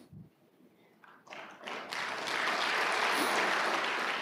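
Congregation applause at a Tagalog church service, starting from quiet with a few scattered claps and swelling after about two seconds into steady, dense clapping that fills the room and holds to the end.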